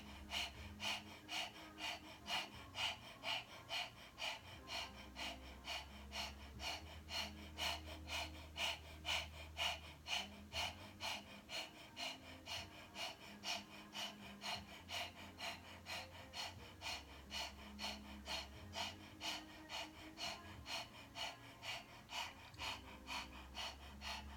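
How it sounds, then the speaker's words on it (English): Kundalini yoga breath of fire done with the tongue out, rapid rhythmic panting bursts repeating evenly about twice per second, close and steady over a soft low musical backing. "we're gonna do a breath of fire through the tongue out"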